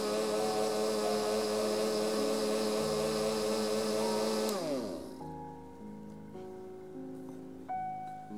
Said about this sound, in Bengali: আমরা মিল্কটাকে প্রথমে ব্লেন্ড করব খুব সুন্দর মতো